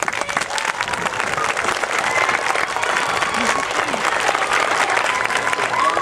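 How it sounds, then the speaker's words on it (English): A crowd claps for students at an intermediate school groundbreaking ceremony outdoors, dense sustained applause filling the whole stretch at a steady loud level, with a few scattered voices mixed in. "So we're going to give a round of applause to all the students here."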